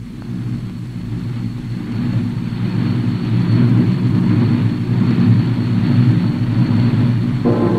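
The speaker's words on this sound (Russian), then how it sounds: "Самолеты в заданном районе." Soviet military aircraft flying over a designated area, a loud continuous engine roar that swells slightly and holds steady, with no talking.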